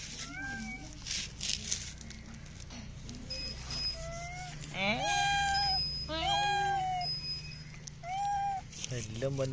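Several cats meow and caterwaul repeatedly around people cutting a large tuna for pickling, the calls close and rising and falling, mixed with a person talking and kitchen noise.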